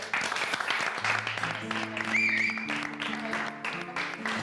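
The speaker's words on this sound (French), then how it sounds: "Applaudissements" A television audience on Star Academy applauds, steady clapping running throughout beneath music with sustained tones and a brief whistle-like cheer in the middle.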